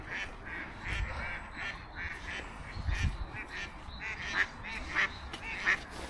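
Ducks quack near King George V Pool, a run of repeated honking calls at a moderate distance, spaced irregularly over soft outdoor background noise, with no talking.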